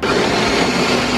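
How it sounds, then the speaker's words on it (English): A kitchen blender purees soaked apricots with water, giving a loud, steady whirring motor roar that runs unbroken from start to finish with no talking. "Let's get our blender, add our soaked apricots and water."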